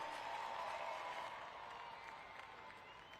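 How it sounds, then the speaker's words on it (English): Arena crowd applause for a Monster Jam driver in Oakland, California, a broad, distant-sounding roar of clapping and crowd noise that stays even and slowly tapers off. "Nice, deserving round of applause right there for Kristen Anderson."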